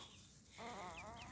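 Chickens cluck and call from a short distance, a few overlapping bird calls rising over faint background noise, with no talking.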